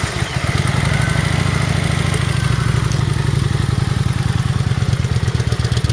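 A 2009 Kawasaki Vulcan 900 Classic LT idles steadily nearby, its engine thumping in a low, even, throbbing pulse with light mechanical clatter and no voices.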